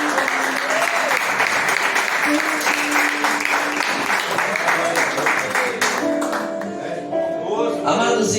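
A church congregation gives a long, dense round of applause for Jesus during a sermon, steady and loud throughout, with voices calling out over it and thinning slightly near the end.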